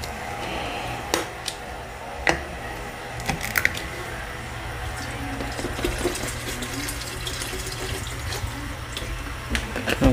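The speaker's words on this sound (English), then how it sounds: "I'm not measuring anything, I'm just pouring to taste" Orange juice is poured into a vodka punch as a continuous splashing, gurgling liquid stream with a few small clinks, close and moderately loud, without speech.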